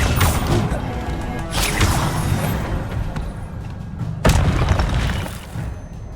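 Incendio fire spell cast in the Hogwarts Legacy video game: loud, booming fiery bursts at intervals, each a sharp crash that trails off into a roaring rumble.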